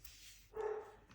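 A single dog bark sounds once, faint and distant, in the background of an otherwise quiet room.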